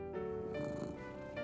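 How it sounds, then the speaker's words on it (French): A pet cat's soft, steady purr from a French-dubbed children's cartoon, a close rhythmic rumble lasting just over a second with no talking over it. "Mais il aimait encore plus le doux ronron de son chat Gilbert."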